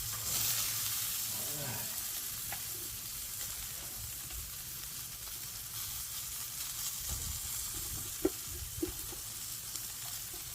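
Chicken sizzling over high heat as sauce caramelizes onto it, a steady broad crackling hiss close by with occasional pops and a brief spoken word over it.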